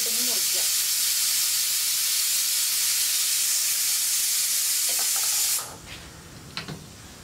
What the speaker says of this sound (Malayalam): അപ്പോൾ നമ്മുടെ കുക്കർ ഇവിടെ വിസിൽ വന്നുകൊണ്ടിരിക്കുന്നുണ്ട്.